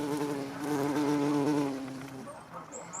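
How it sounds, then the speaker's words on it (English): Queen buff-tailed bumblebee (Bombus terrestris) laden with pollen, buzzing close and loud with a steady droning hum that fades slightly as she moves away. "Now here's a queen bee, and look at the size of the pollen sacs on her legs."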